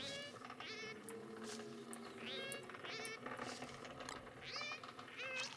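A cat meows several times in rising, wavering cries spread across the clip, heard indoors over a low steady background with faint speech-like murmur.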